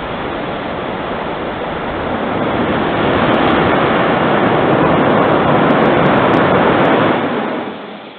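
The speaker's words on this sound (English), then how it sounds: "we saw the first static fire test for Ship 24 with 6 Raptors" A sustained, powerful roar of a Starship Ship 24 static fire test with six Raptor engines, three sea-level and three vacuum, a broad rumbling blast that builds, holds steady for several seconds, then cuts off.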